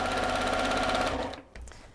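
A sewing machine stitching a dress seam runs in a fast, steady whir for about a second and a half, close and loud, then stops abruptly with a brief mechanical clunk.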